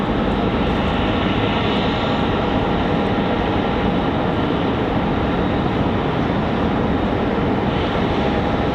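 Departing airliners taxi toward the runway at Raleigh-Durham International Airport, a loud, continuous engine roar with a steady whine over it, unchanging and fairly close.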